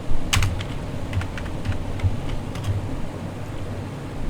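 Typing on a computer keyboard while entering a job description, with irregular clusters of soft, close keystroke clicks spread across the few seconds and a low steady background hum.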